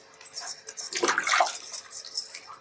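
Fresh turmeric roots rubbed and washed by hand in a large pot of water, giving close splashing and sloshing with irregular swishes and a brief burst of louder agitation midway, no voices.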